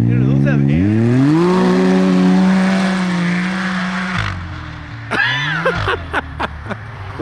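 A snowmobile engine revs hard and climbs in pitch, holding a loud wild-sounding drone before dropping off into sharp repeated revs, with voices talking over it.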